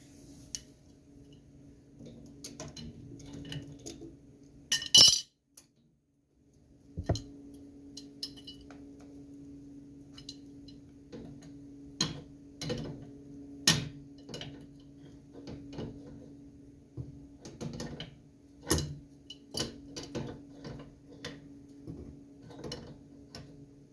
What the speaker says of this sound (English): get that cap put back on. Get that all tightened down